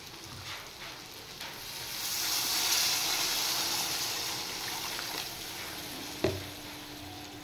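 Curry hisses and sizzles in a pan as water is poured in, a steady close bubbling spatter that swells and settles, with a clink of a utensil near the end.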